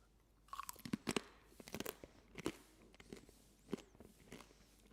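Close crunchy bites and chewing of a barbecue-flavored snack that is crunchy yet chewy, irregular crisp cracks and mouth sounds at fairly low volume without speech.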